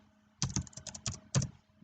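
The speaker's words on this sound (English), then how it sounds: "We'll type that in" Numbers typed on a computer keyboard, a quick run of about eight close, crisp key clicks in an uneven rhythm, heard alone in a quiet room.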